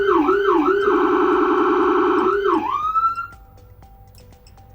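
A truck siren wails through rising and falling sweeps from a Command Center 1075 control, loud and close, then cuts off abruptly, leaving quiet room tone with a few faint clicks.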